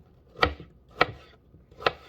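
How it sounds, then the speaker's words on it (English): An apple being chopped with a knife for a salad, three sharp separate chops of the blade striking a cutting board, spaced irregularly, close and clear with no talking. "once I finish chopping the apple"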